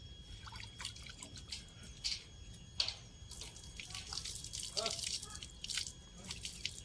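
Water drips and splashes as an animal is bathed, with intermittent trickles and faint taps over a steady low background, fairly close and moderately loud, while a person speaks now and then.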